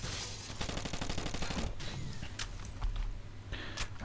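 Rapid bursts of gunfire fill a Rainbow Six: Vegas 2 firefight, with a dense run of repeated shots early on and then sharper isolated cracks spread out over a steady low background rumble.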